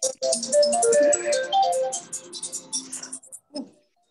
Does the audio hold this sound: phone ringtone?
yes